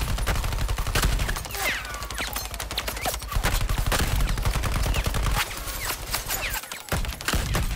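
Rapid video-game gunfire from Suicide Squad: Kill the Justice League, dense bursts of shots and automatic fire rattling steadily throughout, loud and close, with a brief lull near the end.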